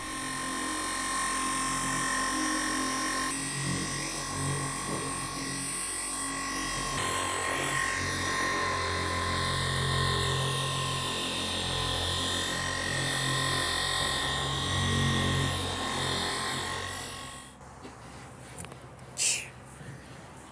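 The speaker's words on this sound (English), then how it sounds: "we're gonna be using Flex's cordless machine to finish up the outside" A Flex cordless polisher buffs the paint on an F350 truck, a steady close electric whir that holds evenly for a long stretch before cutting off, followed by faint handling noises.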